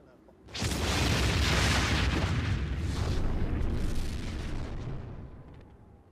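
A sudden massive nuclear test explosion erupts into a long, thunderous roar that rumbles on for several seconds before slowly fading; distant and powerful.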